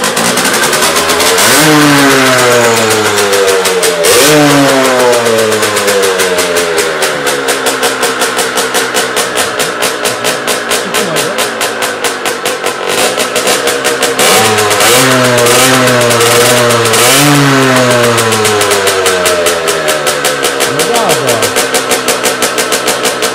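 Derbi Senda 50 enduro motorcycle engine running and revving hard: a loud, buzzy small two-stroke whine climbing and falling in repeated throttle blips, heard close up for over twenty seconds.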